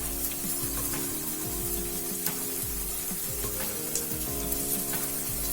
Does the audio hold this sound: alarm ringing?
no